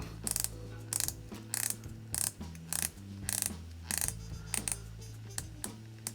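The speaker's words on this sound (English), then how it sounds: "you really get very good bezel action on this watch. Let's listen to that. It's pretty tight." Clicking bezel of a vintage German-made Bulova Oceanographer 666 automatic dive watch, turned in a series of tight, crisp ratcheting bursts, close up and alone with short pauses between turns.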